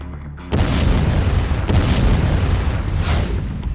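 Ballistic missile attack explosions in Beersheba, Israel: a heavy, loud boom erupts after a brief lead-in and rumbles on continuously, with further blasts layered at about 1.7 and 3 seconds.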